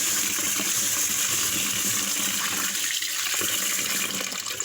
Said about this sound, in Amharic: ይሄ ውሃው እስከሚፈላ ድረስ ስንዴውን በደንብ አጥባለሁ።